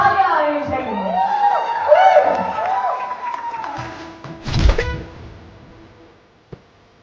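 An audience cheers and claps at a celebratory evening event, a swelling crowd noise with whoops that rises, peaks and then dies away into near silence.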